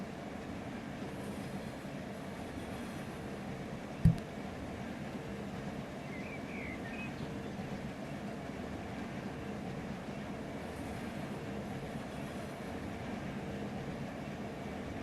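Trains rolling slowly in the Run 8 railroad simulator game, a continuous low rumble with steady rail noise, one sharp knock partway through and a faint brief squeal afterwards.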